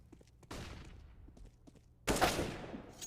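Counter-Strike AK rifle fire comes through as scattered faint taps, then a loud burst of shots breaks out near the end, sharp and close over a quiet background.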